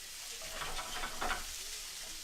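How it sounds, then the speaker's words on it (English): Green beans stirred around in sizzling butter in a pan, a steady close hiss of frying with soft scraping stirs swelling briefly in the middle, no voices. "I'm just gonna stir this around so like the butter gets all over those green beans."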